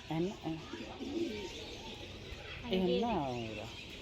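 Birds coo and call in an aviary at a bird park, pigeon-like cooing near and moderately loud in two bursts with a quiet gap between, no talking.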